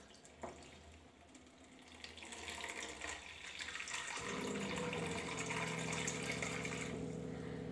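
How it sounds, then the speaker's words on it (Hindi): Water from an RO purifier tap runs into a plastic container, a steady rushing stream that starts softly, swells louder and lower in pitch as the container fills, continuing without talk. "ये है आरओ, इसमें से हम पानी निकाल लेंगे।"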